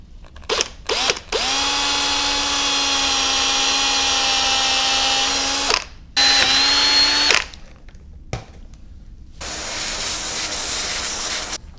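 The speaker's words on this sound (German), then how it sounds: "Die Löcher werden dann in einer Größe gebohrt, um hier die 5 mm Schrauben reinzusetzen." A power drill bores holes for 5 mm screws into a ShapeOko 2 wasteboard, with several long steady whining runs broken by short pauses and a brief quieter burst near the end, loud and close.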